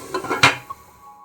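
Salted chicken being stirred in a cooking pot for a chicken curry, with a few quick metal scrapes and clanks, then a lighter clink as the lid goes on. The sounds are brief and close, with no voices.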